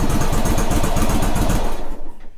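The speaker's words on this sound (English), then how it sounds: "Give it a little bit of a rev," A Yamaha Virago 1100 motorcycle's engine revs loudly up close, a fast throbbing beat that climbs for about two seconds, then drops away sharply.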